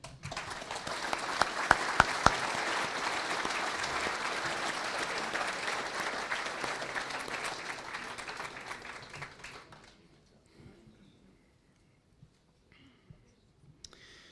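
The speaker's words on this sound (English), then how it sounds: "I think they all deserve a round of applause" Applause from an audience at a closing ceremony, a steady dense clapping that holds for about ten seconds and then fades out, leaving near silence with a few faint clicks.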